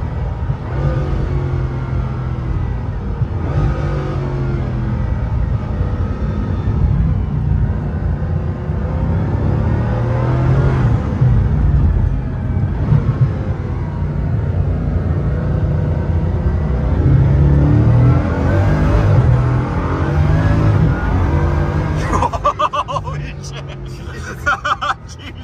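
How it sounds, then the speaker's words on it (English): A Bugatti Chiron Pur Sport heard from inside the cabin as it accelerates with its turbos kicking in, a loud low engine rumble rising in a sustained surge, with people talking over it. "And then it comes, boom! When the turbos kick in."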